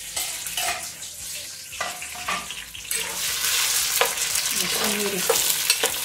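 Zucchini sizzles and is stirred in a hot pan with tomato broth and a little water, scraping strokes over a frying hiss that grows louder, with someone briefly speaking.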